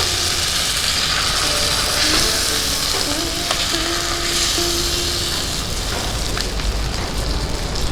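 Pomfret fish sizzle and spit steadily in hot oil with a masala coating, a close, continuous crackle with occasional louder pops and a faint tonal whine drifting through.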